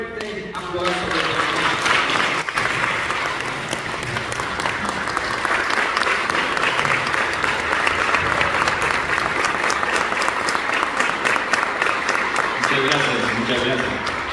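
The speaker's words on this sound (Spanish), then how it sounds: "Démosle un fuerte aplauso." Loud, full audience applause for a cardinal at a church gathering, a dense steady roar of many hands clapping throughout, with voices and cheers mixed in.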